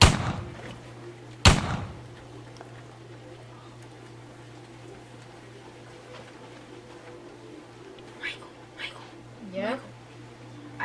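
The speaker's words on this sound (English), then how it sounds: "I just heard gunshots" Two sharp, loud gunshots ring out outside early, the second especially strong, followed by a steady low hum and a few faint distant noises.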